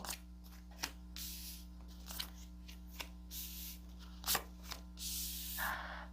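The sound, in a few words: tarot cards being shuffled and drawn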